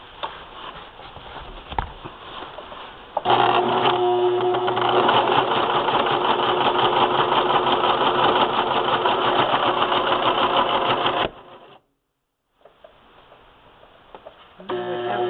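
A sewing machine stitches a spool-knit rug with a loud, fast, steady mechanical whir that runs for about eight seconds, then stops. Quieter handling noises and clicks come before and after.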